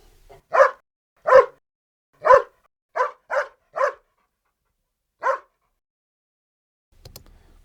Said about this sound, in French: on a pendant tout le film un groupe de chiens qui vit tout le temps ensemble